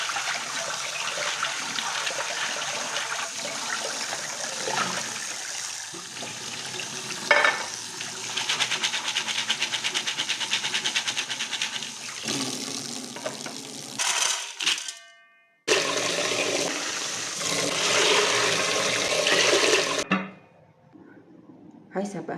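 Soaked mung beans being washed in water, with steady swishing, rattling and splashing as the beans are rubbed and stirred, loud and close, with a couple of short pauses near the end.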